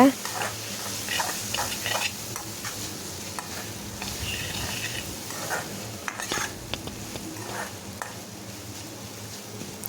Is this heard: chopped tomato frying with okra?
yes